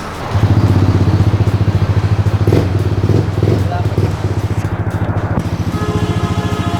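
A Yamaha Aerox scooter engine runs close and loud with a fast, pulsing idle that holds steady and dips briefly. Someone talks over it.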